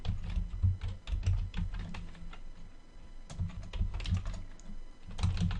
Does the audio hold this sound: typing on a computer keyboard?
yes